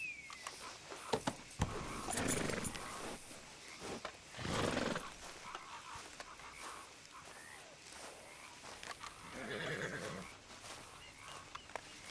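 A horse in Red Dead Redemption 2 whinnies a few times amid hoof clip-clops and scattered background noise, with bursts of neighing rising and fading.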